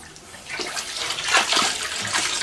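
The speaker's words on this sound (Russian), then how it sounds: "Одну лейку я выливаю прям непосредственно сюда." Water pours steadily from a watering can onto the soil at the base of a grapevine, a close, continuous splashing gurgle lasting a couple of seconds with no talking.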